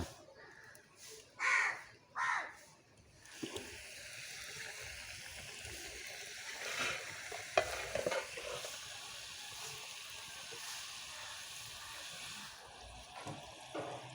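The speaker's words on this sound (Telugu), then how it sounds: "నూనె వేడైంది కర్జికాయలు కాల్చుకుందాం" Kajjikayalu (gujiya) pastries frying in hot oil give a steady, soft sizzling hiss that runs for about ten seconds, after a few crows caw nearby.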